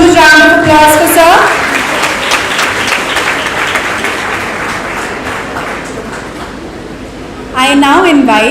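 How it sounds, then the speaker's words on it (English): A large conference audience breaks into sustained applause, loud and dense from start to finish, with a speaking voice over the opening and again over the closing seconds. "May we have a huge round of applause for sir."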